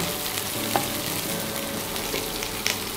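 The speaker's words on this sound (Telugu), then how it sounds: "ఈ ఉల్లిపాయ ముక్కల్ని కూడా ఒకసారి మనం మిక్స్ చేసుకుందాము" Onion pieces stirred through hot frying oil in a pan for a milky bottle gourd curry, giving a steady close sizzle with a few sharp clinks of the spoon against the pan.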